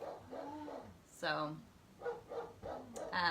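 A dog barks and whimpers in short yips indoors after a firework goes off, the bursts spaced irregularly and mixed with someone talking close by.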